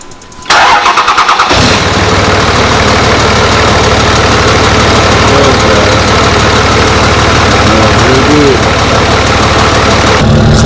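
A 2005 Cummins diesel pickup truck engine cranks and fires, then runs loud and close with a steady, rough, knocking idle and throttle roar that continues to the end.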